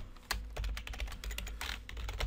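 Fast typing on a computer keyboard while entering AngularJS code, with rapid, uneven clusters of close key clicks and no pauses.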